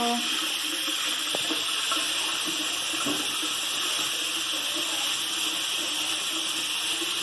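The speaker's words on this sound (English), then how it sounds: "Wash your hands. Wash until they're clean." Steady running water from a sink tap while a child washes hands, a constant broadband hiss filling the whole clip with faint voices and small knocks underneath.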